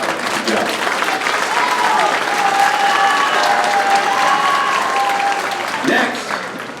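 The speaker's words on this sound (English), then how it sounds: "Yes, we can applaud her." An audience at a high school marching band ice cream social applauds a freshman bass drum player, with steady clapping filling the space for several seconds, cheering and voices mixed in, tapering slightly at the end.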